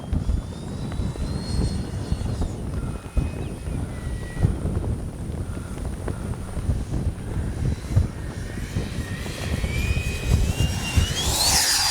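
A Freewing 90mm F-22 RC jet making a low pass, its ducted fan producing a sustained roaring whoosh that swells toward the end as it sweeps close by, outdoors with wind noise.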